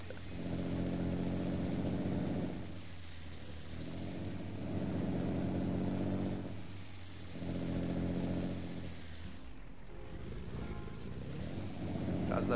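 A Scania 141 truck in Euro Truck Simulator 2 accelerates in repeated surges, its engine note rising, then dropping at each gear shift, loud and steady with no voice over it.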